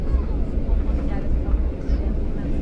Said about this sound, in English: We're heading down the runway.